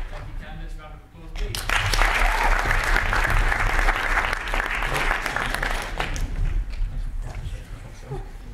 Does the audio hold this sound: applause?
yes